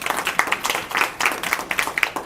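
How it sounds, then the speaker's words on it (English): A workshop audience gives a round of applause for a participant named Sojan, brisk, dense clapping from a room of people for about two seconds. "Give a round of applause to Sojan"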